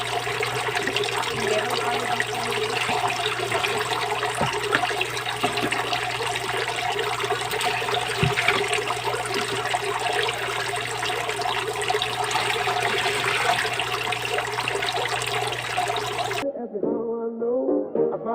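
Old water draining steadily out of a hito (catfish) pond during a water change, a continuous loud rushing flow with a low steady hum underneath that cuts off abruptly near the end.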